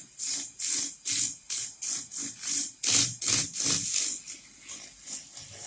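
A 120 grit sanding tool worked back and forth over a carved wooden horse head, about a dozen rhythmic rasping strokes at an even pace, close and fairly quiet with no voices.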